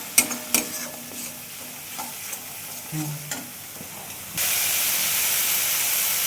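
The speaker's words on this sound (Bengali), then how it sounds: "একটু ভাজা ভাজা করে নেবো মশলাটা" Ground cumin, coriander and turmeric paste fries in a pan with stirring clatter, then breaks into a loud, steady hiss and sizzle as water is added, close and without talk.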